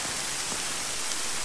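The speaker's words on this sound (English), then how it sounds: "At least I can get out of the fucking rain." Steady rain pours in the Arma 3 military game world, a dense, even hiss of drops on surfaces that fills the whole short stretch without any voices.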